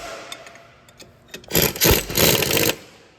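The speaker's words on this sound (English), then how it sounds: "I'm not going crazy with the impact gun, I'm just running it down until it stops" An impact gun runs a bolt down on the front brakes of a 2007–2011 Honda CR-V, a loud close burst of roughly a second after a few light clicks and taps.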